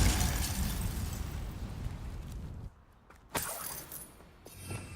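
Spell effects from the game Hogwarts Legacy, Glacius and Incendio cast in combat: dense crackling, bursting impacts roaring continuously, a brief lull, then a sharp blast and renewed fiery rushing.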